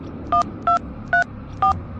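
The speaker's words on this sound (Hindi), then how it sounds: "पंडित को फोन लगाता हूँ" Telephone keypad dialing: four evenly spaced dual-tone beeps, each short and crisp, standing out clearly over a low background hum with no talking.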